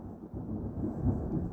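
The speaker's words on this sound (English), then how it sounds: "The thunder and the lightning is coming, man." Low, rolling thunder rumbles steadily on its own at moderate volume, swelling slightly toward the end, with faint rain-like texture and no voices.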